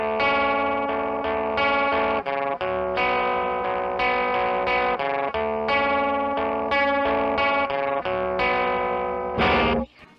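An electric guitar plays sustained chords through a rare fuzz effects pedal, set to a subtle blend, a loud, thick, distorted tone with short breaks between strums and no talk.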